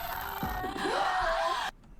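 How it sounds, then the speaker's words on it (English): A screaming, inhaled vocal sound effect from a K-pop zombie-themed music video, a rising strained shriek lasting under two seconds over a backing track before cutting off abruptly. "that like scream inhale sound, which is just super fucking dope"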